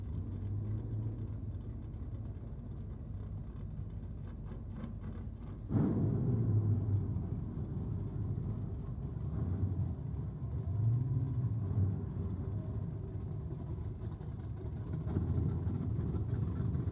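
A Pontiac GTO drag races down the strip at a Sydney dragway event, heard as a continuous rumbling engine roar at a moderate distance with a sudden surge partway through, then steady drone as it pulls away.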